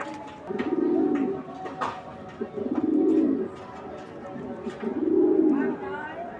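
Three rolling coos from a Netherlands racing pigeon in a steady rhythm, close and clear, separated by short pauses with faint background chatter.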